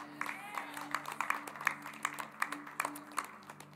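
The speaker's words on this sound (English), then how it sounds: "Maybe that's the clapping of those that'll be left." A church congregation claps in a steady rhythmic beat, sharp regular hand claps at moderate distance over a faint bed of voices.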